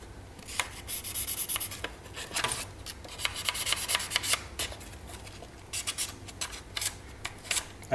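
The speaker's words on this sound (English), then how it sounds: "Right now I'm just going to use sandpaper here." Sandpaper rubs against a small RC helicopter tail block part, giving quiet, close, irregular scratchy strokes with brief pauses between passes.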